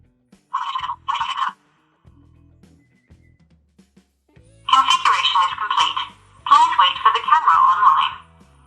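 A Wi-Fi smart camera that screws into an E27 bulb socket gives two short electronic beeps early, followed by longer chirping tone bursts, with faint low talk and rustling between them.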